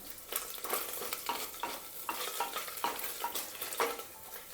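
Chillies, bay leaf and whole spices sizzle in hot oil while being stirred, with a steady frying hiss broken by repeated scraping strokes of a spoon against the pan, close and moderately loud with no talking.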